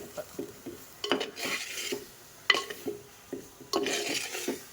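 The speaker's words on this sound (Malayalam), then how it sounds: "അരപ്പേ തട്ടിയിട്ട് നന്നായിട്ടൊന്ന് ഇളക്കി യോജിപ്പിക്കാം." A spoon stirs masala paste into squid curry in a pan, giving repeated scraping and clattering strokes, close and fairly loud, with brief pauses between bursts of mixing.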